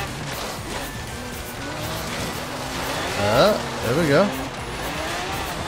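A golden Toyota FJ40 driven in Forza Horizon 3, its engine droning steadily and revving up in two rising bursts near the end, with someone talking briefly over it.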